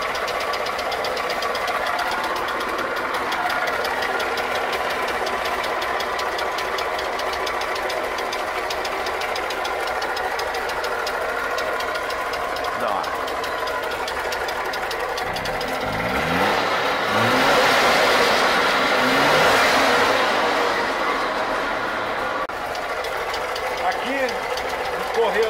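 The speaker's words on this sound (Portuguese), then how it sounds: "Vou deixar o pessoal aqui sentir a saúde do motor." The two-stroke engine of a DKW Vemag car runs steadily with a rapid, buzzy knocking rhythm, close by, revving up briefly partway through; voices can be heard faintly at times.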